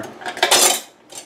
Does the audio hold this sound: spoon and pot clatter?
yes